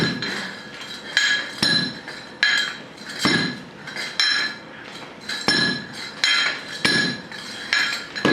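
A Proctor compaction hammer drops repeatedly onto soil packed in a test mold, giving roughly ten evenly spaced, loud, close thuds, each with a bright metallic ring.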